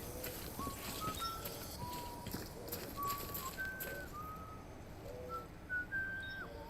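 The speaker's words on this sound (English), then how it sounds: "that's not me whistling" Melodic whistling in the video game Death Stranding drifts through a busy ambient bed, with thin sliding notes and short phrases repeating over several seconds at moderate distance.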